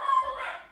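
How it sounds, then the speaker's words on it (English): A puppy gives a single short, fairly loud bark that fades out within a second, heard alone with no talking. "You can hear her barking pretty good"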